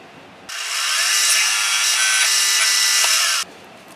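A 3/8 spotting drill bites into metal with a sharp, bright whine that starts abruptly, holds steady for about three seconds, then cuts off.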